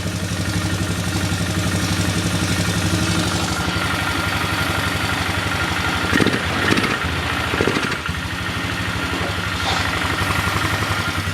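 A Polaris Magnum 325 ATV engine running lean from fuel starvation holds a loud, close, steady idle, with brief uneven stumbles partway through.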